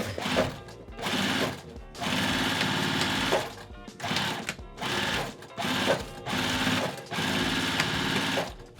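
A sewing machine runs in a series of fast, whirring bursts with brief pauses between them, stitching a box bag seam on canvas, close and clear.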